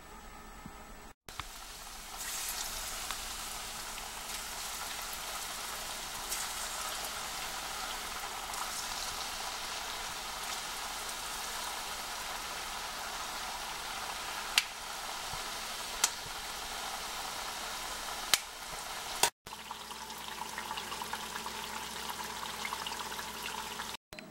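Surul paniyaram, the comb-shaped Diwali sweet, frying as its dough sits in hot oil: a continuous low bubbling sizzle with a few sharp clicks and momentary cutouts scattered through it.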